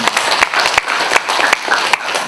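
An audience at a real estate outlook lecture in Pyeongtaek claps, loud and close, in a brief, busy burst of overlapping hand claps.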